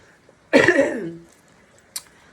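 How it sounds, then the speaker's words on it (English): A single harsh cough from a person with COVID bursts out close by, followed by a faint click in an otherwise quiet room. "I have like a little cough"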